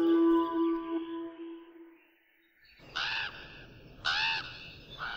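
Harsh, rasping calls of a chim heo bird, an owl, ring out twice in short bursts after a held tonal drone fades to near silence, fairly close and clear.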